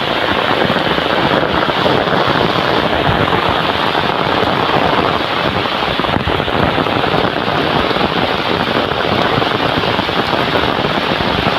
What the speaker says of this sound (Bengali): মুসুলধারে বৃষ্টি